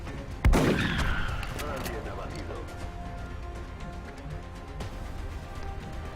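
Gunfire in the video game XCOM: Long War: a sharp, loud shot opens the clip, followed by a decaying rumble and scattered distant bursts under a low ambient backdrop.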